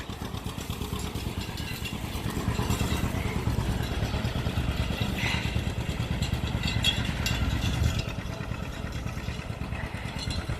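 A tractor pulls a John Deere manure spreader across a field in late winter, with a steady low engine rumble and mechanical clatter running continuously and no voices.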